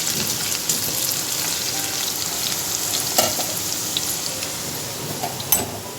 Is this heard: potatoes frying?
yes